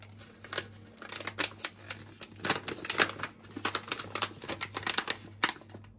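A Patiswiss pistachio white chocolate package being opened, with dense close crinkling and sharp tearing clicks of plastic wrapping in quick irregular bursts.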